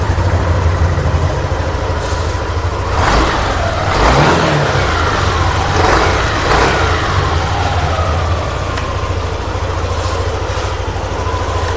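A second-hand motorcycle engine runs loud and close, idling with a steady low drone and rising into a couple of revs in the middle.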